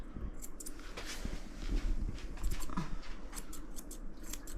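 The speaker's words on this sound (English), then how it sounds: "just trim down some of that floof." Scissors snip through a Maltese dog's fur in short, quiet, close cuts, spaced irregularly.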